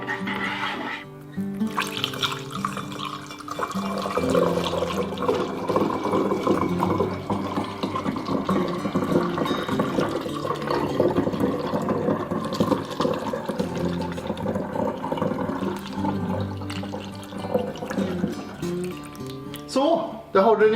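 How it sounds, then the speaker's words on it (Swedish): A homemade ginger shot mixed with honey is poured into a bottle, giving a continuous liquid trickle and gurgle that lasts about twenty seconds under music and occasional talking. "sen är det bara att hälla upp i din flaska."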